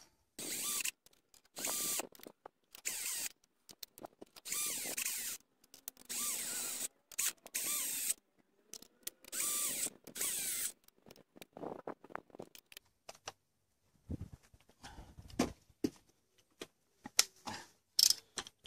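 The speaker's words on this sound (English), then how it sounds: "To fit the 5 bolts holding this end cap on." Bolts are fitted to the front brake end cap of a 1993 Land Rover Defender, with repeated close bursts of ratcheting and metallic clicking separated by short pauses, then sparser clinks and taps.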